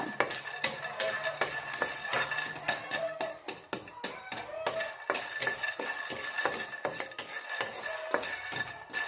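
Peanuts are dry roasted in a pan without oil, a spoon stirring them with rapid repeated scraping, rattling and clinking against the metal, close and busy with no talk.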